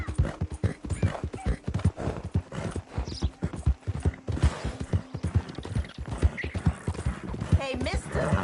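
Horse hooves clip-clop steadily in a Mortal Kombat 1 scene on PS5, a close, continuous trotting rhythm with an occasional whinny, heard under a voice talking.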